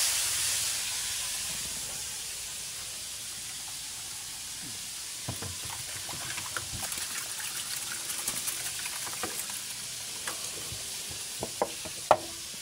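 Fish fries in a pan with a continuous bright hiss and sizzle. Scattered clicks and pops from spattering oil and stirring grow more frequent toward the end. There are no voices.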